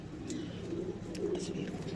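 Soft pigeon cooing repeats in low, throaty pulses against a steady background hum, fairly quiet and close.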